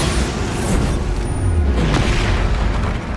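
A powerful Bombarda explosion spell from Hogwarts Legacy roars as a sustained, loud boom with deep rumbling low end and a crackling burst that fills the whole moment.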